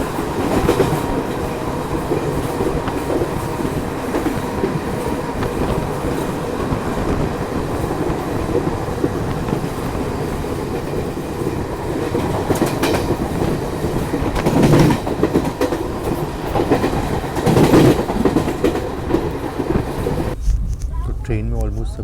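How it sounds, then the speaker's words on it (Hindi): A Garib Rath express train runs at speed past a station without stopping, a loud continuous rumble with rhythmic wheel clatter and occasional rail squeal, heard from on board throughout. "तो अच्छी खासी रफ्तार में ट्रेन ने सोनपुर को स्किप किया।"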